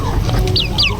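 Hens in a chicken coop at night give a couple of short, close, rising clucks over a low background murmur.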